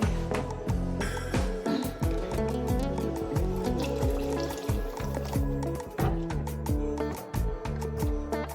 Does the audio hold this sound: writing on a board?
no